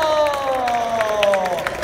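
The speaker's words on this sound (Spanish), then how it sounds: "¡Aplauso!" Audience at a magic show applauding and cheering after a rabbit trick, a crowd clapping and calling out with voices mixed in, fairly loud and continuous over a held musical tone.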